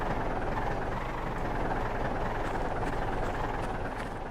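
Steady droning car engine held at raised revs in the Finnish rural driving game My Winter Car, a continuous broadband hum with no break, fairly close and alone without talk.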